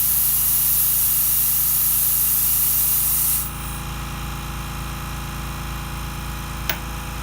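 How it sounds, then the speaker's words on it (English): A steady, loud hiss of compressed air rushing continuously from a wide-open air hose on a quiet airbrush compressor, with a low mechanical hum underneath; the hiss drops in level partway through, then carries on. "Air hose running. Just running wide open."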